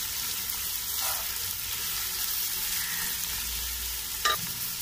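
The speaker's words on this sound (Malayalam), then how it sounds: "ഞാൻ ഇവിടെ കുറച്ച് ഉള്ളി മാറ്റി വച്ചിട്ടുണ്ട്. നല്ലതുപോലെ വഴറ്റി കൊടുക്കാം." Onions sauté in a pan for Kozhikode-style beef biryani, a steady close sizzle and crackle with occasional stirring scrapes and a sharp clink near the end.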